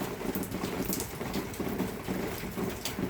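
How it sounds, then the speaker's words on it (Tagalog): Steady rain falls on surfaces in cool wet weather, a dense close patter of drops that continues evenly throughout with no voices. "Ulan eh."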